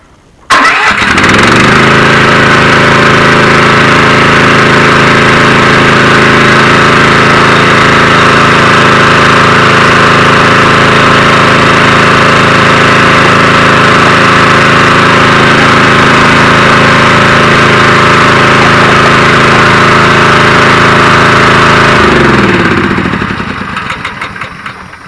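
The engine of a platform lift starts and runs loud and steady for about twenty seconds, driving its rubber track in reverse, then winds down and stops.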